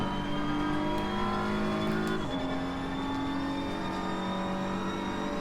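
A BMW M4 GT3 race car engine in the Assetto Corsa Competizione game, driven at Kyalami, drones steadily at full power with rising harmonic pitch and a brief gear-change dip, loud and continuous without talk.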